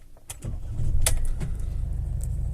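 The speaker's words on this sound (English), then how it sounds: "And now he starts the vehicle." A Mercedes Vito van engine cranks and catches after a brief whir, rising into a close, steady low rumble with a couple of sharp clicks along the way.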